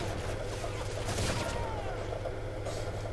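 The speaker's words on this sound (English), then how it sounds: "Type 95 used as a submachine gun." Rapid bursts of Type 95 rifle fire in the Modern Warfare 3 video game, used like a submachine gun, crackle continuously under a voice that talks over the shooting.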